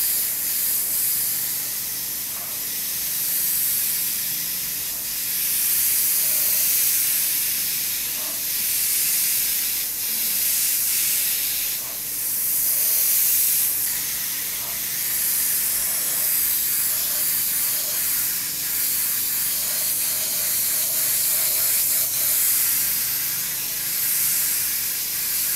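A steady airbrush hiss runs continuously, trigger held fully down, spraying Trident paint for a flames and stripes design, with faint small clicks and ticks scattered through it.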